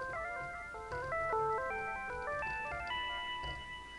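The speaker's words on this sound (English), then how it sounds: "Last time we were creating this wonderful little synth patch" Synth patch built in Pulsar and processed through Thor in Reason 6.5 plays a bright, bell-like melodic arpeggio of stepping tones with a soft low pulse underneath, clean and alone for a few seconds.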